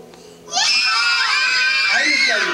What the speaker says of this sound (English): The secret to breaking a karate board is the karate scream.